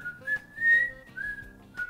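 Someone whistles a children's song, the tune halting and unsteady across a few short wavering phrases, close and fairly loud with no talk over it.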